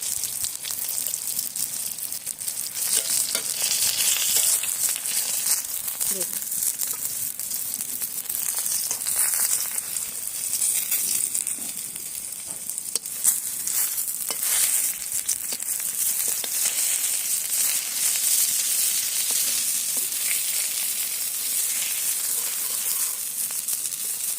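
Hilsa fish wrapped in pumpkin leaves fries steadily in hot oil, a continuous close, bright sizzle with crackling pops running throughout and no talk.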